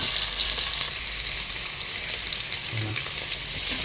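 Potato pieces fry in hot oil in a pan for Filipino chicken adobo, a steady bright sizzle that runs on without a break and stays close.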